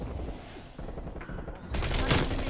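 Rapid, dense gunfire from the Bullfrog SMG in Black Ops Cold War rattles on in loud, sustained bursts. The shooting grows heavier and brighter toward the end, with faint voices mixed underneath.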